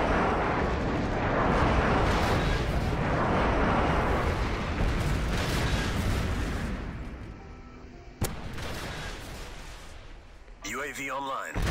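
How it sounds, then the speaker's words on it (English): Friendly airstrike in Call of Duty Modern Warfare 3: rolling, rumbling explosions mixed with gunfire that build and then fade, one sharp crack near the end, with voices over the battle. "Friendly airstrike on the way"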